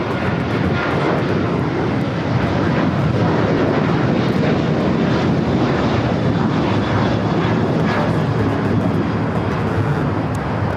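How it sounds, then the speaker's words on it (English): An American Airlines Boeing 737-800 takes off at LAX with a loud, continuous jet roar that holds steady and close throughout, with no voices over it. "This is American Airlines 1467 taking off to Columbus on the 737-800."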